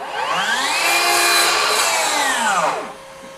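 A FLEX 24V brushless 12-inch dual-bevel miter saw makes a single cut, its motor whine rising and holding loud and close for about three seconds before spinning down.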